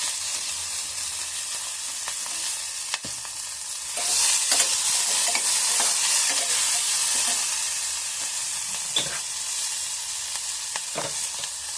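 Toor dal sundal stir-fries in a pan with asafoetida, producing a steady sizzle and frequent scraping stirs of a spatula, the frying swelling louder midway and carrying on alone without talk.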